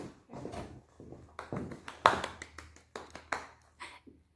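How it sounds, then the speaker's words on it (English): Small group of people at a painting session clapping for themselves, a few scattered, sharp hand claps at close range, fairly quiet and uneven, with no talking. "Everyone, give yourselves a round of applause"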